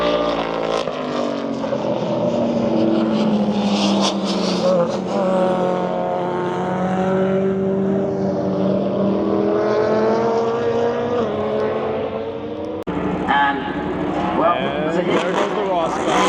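A Ferrari 599XX track car launches hard on a California mountain road, its high-revving engine screaming loud and close through rising gear pulls that echo off the slopes, with a brief break before the next pull.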